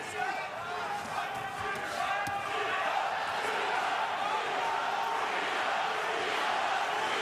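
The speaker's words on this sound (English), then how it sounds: "The crowd are right into this" A boxing crowd roars throughout the Marco Huck vs Firat Arslan rematch, a steady dense wall of cheering with a commentator talking over it.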